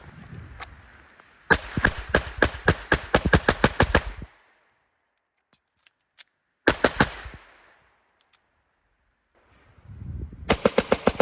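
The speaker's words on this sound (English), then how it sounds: "We'll go ahead and get more shooting done" Custom Staccato C2 pistol fired in fast strings of sharp, loud shots, a long burst, a shorter burst after a pause with a few faint clicks, then another volley starting near the end.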